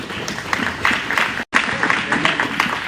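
A church congregation claps hands during a worship service, a dense crowd of steady applause with a brief dropout midway, loud and close.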